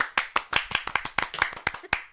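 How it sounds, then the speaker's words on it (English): A handful of distinct hand claps in an irregular, slightly uneven rhythm, close and sparse, like one or two people clapping alone rather than a crowd. "Can I get a round of applause, please?"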